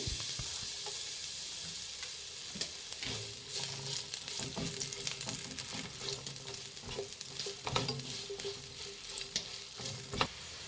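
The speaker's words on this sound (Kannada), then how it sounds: "ದಪ್ಪ ಸೈಜಿಂದ 2 ಈರುಳ್ಳಿ ಹಾಕ್ಕೊತಾ ಇದ್ದೀನಿ. ಈರುಳ್ಳಿ ಫ್ರೈ ಮಾಡಿ." Two thickly cut onions sizzling and frying in hot oil in a pan while being stirred for vegetable egg rice, a steady crackling hiss with occasional scraping stir strokes, close and alone with no talk.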